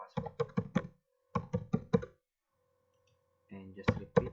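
Password typed on a computer keyboard, two quick runs of four close, crisp key clicks separated by a pause, then a few more taps at the end while a voice speaks briefly.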